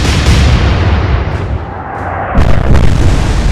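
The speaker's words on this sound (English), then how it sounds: "2 shells landing there." Naval artillery shells from the Atlantic Fleet game land as loud, sustained booming rumbles, with a dip then a second heavy burst of impact noise alone, no talk.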